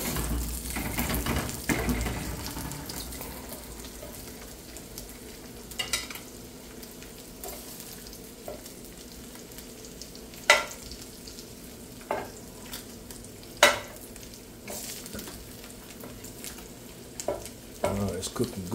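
Pork bacon fries in a pan with a soft, continuous sizzle, broken by occasional sharp clinks and scrapes as the strips are pressed down and moved.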